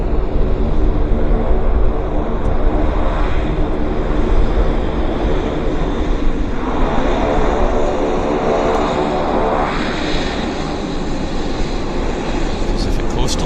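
A WestJet Boeing 737 jet airliner on the active runway at Vancouver Airport, a steady broad engine roar that holds at constant loudness throughout, with someone talking over it.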